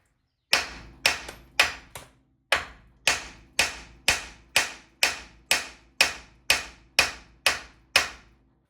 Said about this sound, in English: I'm going to separate the tie rod end from the rest of the vehicle